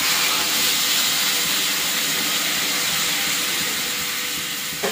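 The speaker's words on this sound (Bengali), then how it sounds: "এই যে গরম জল দিয়ে দেবো এখন।" Hot water poured into a sizzling cooking pot in a home kitchen: a steady, loud, broad hiss and bubbling sizzle that runs throughout and eases slightly at the end.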